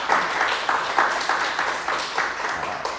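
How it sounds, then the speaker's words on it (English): A seated audience applauds at the end of a startup talk, a steady wash of clapping with slight swells, close and fairly loud, with no speech over it. "Round of applause, please."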